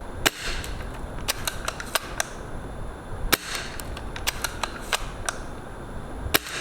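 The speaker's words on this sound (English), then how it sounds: "After taking this gun back to the chrono, it is shooting right around 410 to 415 FPS with a .2 gram BB" An Action Army T11 Pro airsoft sniper rifle fires .2 gram BBs, giving a string of sharp, dry snapping shots at irregular intervals, close and crisp against a low background hiss.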